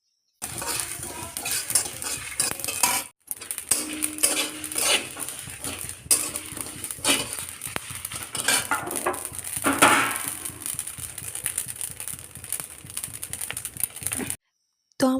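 Spices for a homemade mango pickle are dry-fried and stirred in a hot kadai (wok). A continuous, busy scraping and rattling of the spatula against the metal goes on for about fifteen seconds, close up, with brief breaks near the start and end.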